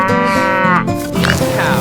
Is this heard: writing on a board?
no